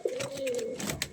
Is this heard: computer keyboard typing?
no